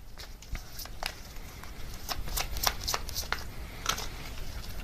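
Tarot advice cards shuffled close up. Soft, crisp card flicks and riffles fall in an irregular patter that goes on throughout, with no voices.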